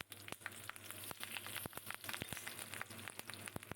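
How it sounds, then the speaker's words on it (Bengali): Black mustard seeds and four green chillies crackle and spit in hot mustard oil, a faint, close sizzle broken by quick, sharp pops scattered through the whole moment. "এখানে আমি কালো সর্ষে ফোড়ন দিচ্ছি আর এই যে চারটে কাঁচা লঙ্কা দিয়ে দিলাম"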